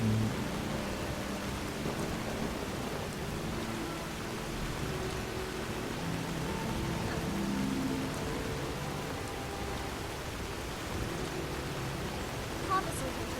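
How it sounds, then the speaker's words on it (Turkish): Steady rain falls in modded The Elder Scrolls V: Skyrim Legendary Edition, a continuous broadband hiss of downpour that holds even throughout with no clear breaks. "yine bir yağmurlu Skyrim"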